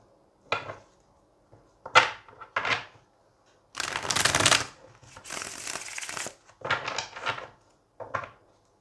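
A deck of tarot cards is handled nearby: a few short riffles and taps, then a longer rustling shuffle in the middle, followed by more brief card snaps and slides, with no talking.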